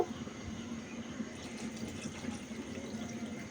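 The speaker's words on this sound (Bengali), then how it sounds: "এবার পরের মতো পানি দিয়ে দিব" Water pours steadily into a pot of lentils and beef for a beef kebab recipe, a continuous close splashing fill with no talk.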